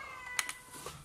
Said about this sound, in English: It's my cat.